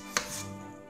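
A single sharp knife chop cuts through a vegetable on a board, one close crisp strike followed by a brief soft tail, alone without speech.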